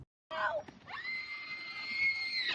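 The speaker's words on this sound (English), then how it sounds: "before you guys judge me on the screaming, it was deep" A person lets out a long, loud, sustained high-pitched scream that holds steady for nearly two seconds, preceded by a few short vocal yelps, close and alone during a swimming outing in deep water.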